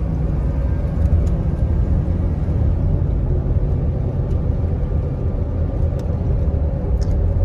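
A one-owner 1995 Chevrolet G20 Gladiator conversion van with 79k miles rolls along on a brand new set of Firestone tires, giving a steady, continuous low road and engine rumble that holds even throughout with no talk.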